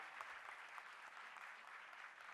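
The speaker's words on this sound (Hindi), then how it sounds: "जोरदार ताली बजनी चाहिए" An audience at a Women's Day event claps steadily, a dense, even patter of applause heard faintly and at a distance, with no cheering.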